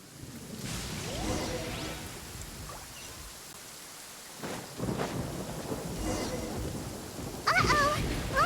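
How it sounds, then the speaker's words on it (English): Thunderstorm in the Genshin Impact video game, with steady rain hiss, rumbling thunder rolls and a louder crack near the end, while voices speak and chirp over it. "Uh-oh! Lightning storm!"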